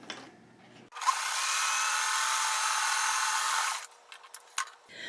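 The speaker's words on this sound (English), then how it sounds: "I'm just going to sew right here, 1/4 inch." A sewing machine runs in one continuous high whirring burst of about three seconds while stitching a quarter-inch seam in quilt fabric, close and steady, with faint handling noises before and after.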